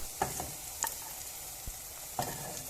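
Escalope pieces frying with softened, wilted onions in a pan for a Tunisian tajine, giving a steady soft sizzle with a few scraping stirs of a utensil, close and moderately quiet, no voices.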